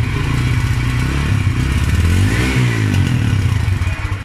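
A TVS Stryker 125 motorcycle engine runs close by, a loud steady mid-pitched idle hum with a brief rise in revs near the middle, alone with no voices.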